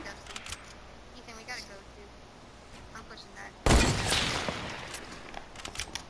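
Gunfire in the Fortnite video game erupts as a loud burst of shots partway through, preceded by quieter in-game clatter, with players talking over the action.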